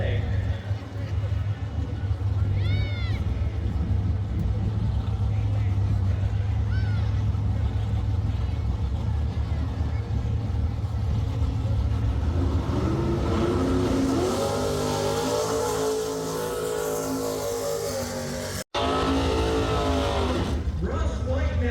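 A 1967 Pontiac Firebird super stock car drag racing at a Pontiac meet, with a loud, sustained engine roar that builds into revving surges near the end, while an announcer talks over it.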